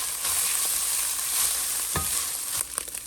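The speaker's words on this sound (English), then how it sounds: "We're also going to add some minced garlic. Cook that for, it says 2 minutes." Minced garlic with dried basil and oregano fries in a pan, a loud, steady hiss of hot oil with scattered pops and a few scraping stirs near the end.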